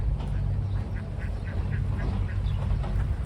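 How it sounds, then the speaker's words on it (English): Several young ducks quacking in a garden enclosure where they sleep and lay eggs, a run of short, evenly spaced calls over a low steady rumble, fairly close and moderately loud. "I think these are the pretty new or younger ducks."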